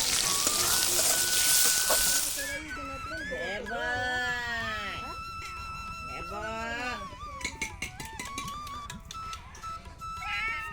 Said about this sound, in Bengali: আমি আদা রসুন দিয়েছি, জিরে দিয়েছি, শুকনো লঙ্কা দিয়েছি, দিয়ে টমেটোটা কষিয়ে নিচ্ছি